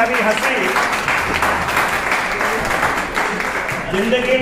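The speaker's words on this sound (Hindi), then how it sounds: "Yes, with clapping we should welcome for everyone." An audience at a felicitation ceremony for promoted principals claps steadily to welcome guests onto the stage, with a voice speaking over the applause throughout.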